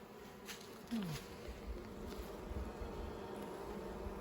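Honeybees buzzing over a brood frame being capped inside a hive in early spring, a steady close drone with a few louder passes near the ear.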